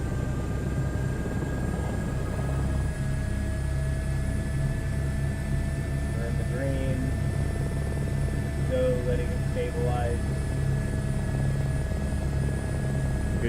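An H125 helicopter in a flight sim game, its turbine engine spooling up with a steady whine and low rotor drone, tones slowly rising; a few faint tonal cockpit beeps sound midway.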